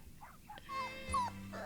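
Dog whimpering in a TV show scene, a few short, faint high whines and yips in a quiet room.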